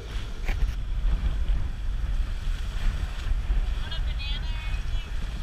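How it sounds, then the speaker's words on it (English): A sailboat motoring dead into the wind, with a steady low engine drone under gusty wind buffeting the microphone and the rush of water, close and continuous. "we were trying to motor dead into the wind"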